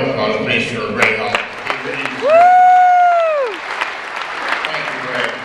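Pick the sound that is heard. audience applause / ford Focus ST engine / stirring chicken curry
audience applause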